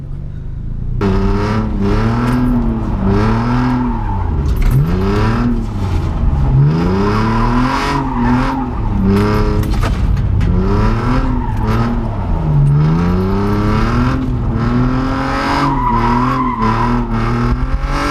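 A car drifting on a street: the engine revs hard in repeated rising and falling sweeps alongside squealing, skidding tyres, loud and close throughout, with no talk.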